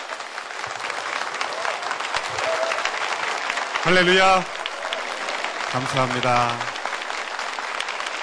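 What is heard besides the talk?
church congregation applause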